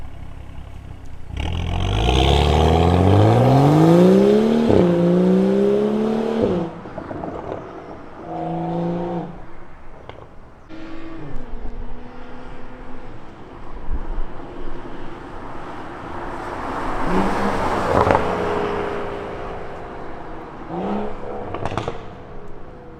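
A BMW N55 car's exhaust roars loudly through several hard acceleration pulls, rising in pitch with each gear, then easing off between bursts, with wind rushing throughout.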